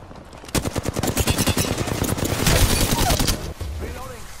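Rapid bursts of automatic gunfire from an attacking squad in Apex Legends, dense repeated shots firing in quick succession, loud and close, with a brief pause near the end before firing resumes.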